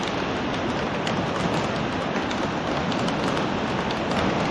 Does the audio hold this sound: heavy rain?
yes